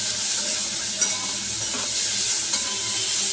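A vegetable hits hot oil tempered with mustard seeds and dried chillies, giving a steady close sizzle with a couple of faint clinks of a utensil against the pan.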